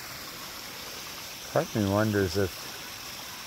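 Running water from a garden fish pond's waterfall flows as a steady, soft background wash, while someone speaks briefly over it in the middle.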